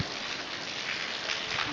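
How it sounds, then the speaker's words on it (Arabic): Rain falls in Abha as a faint, even, continuous hiss with no voices. "والله امطار زي ما انتم شايفين هنا"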